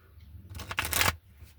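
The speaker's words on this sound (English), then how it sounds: "I give 3 shuffles." Tarot cards shuffled by hand in a short riffling burst that builds and stops, close and fairly clear over a low hum, with no talking.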